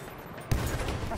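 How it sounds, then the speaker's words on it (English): Gunfire in the video game Battlefield 1 suddenly bursts in halfway through, a dense, loud spray of shots layered with battle noise that carries on to the end. "Machine gun!"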